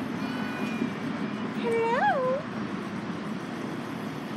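A cat meows once, a clear rising-and-falling call over steady outdoor background noise in a garden, with a person briefly speaking.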